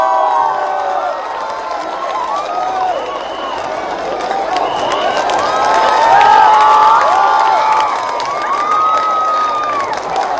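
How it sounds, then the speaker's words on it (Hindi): A large crowd at a Hindi poetry recital in Dungarpur claps and cheers loudly, with shouts and whistles rising over steady applause that swells midway. "जरा जोरदार तालियां"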